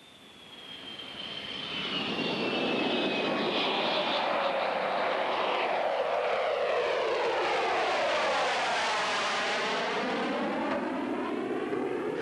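An F-111 jet aircraft lands after its first flight, with a loud, sustained jet engine roar that swells and then holds steady as the plane passes close, with a whining tone in the early part.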